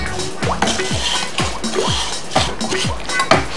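Dry-fried lachha semai is stirred into a pan for halwa with a spatula, making repeated loud scraping strokes and knocks against the metal at a steady rhythm, with no talk.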